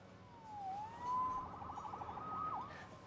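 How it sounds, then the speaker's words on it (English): In the Marvel's Spider-Man video game, a police siren wails faintly in the distance, its rising and falling tone sweeping over a low city background rumble. "Saved by the siren."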